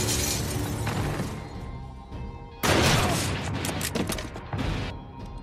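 Loud bursts of gunfire and crashing impacts in an action film soundtrack, a sharp volley erupting midway over a busy, dense background.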